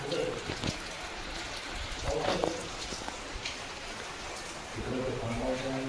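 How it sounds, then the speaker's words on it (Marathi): Steady hiss of rain falling outdoors in the Konkan region, a constant wash of noise with a few louder spatters, while someone talks over it. "पाऊस पण चालू झालाय."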